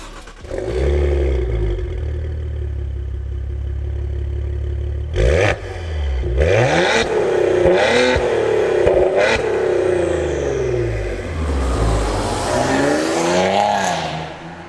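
A 424-horsepower Maserati Ghibli S Q4 accelerates hard, its engine rising through several gears with clear revving sweeps and brief shift breaks, loud and close from inside the car throughout.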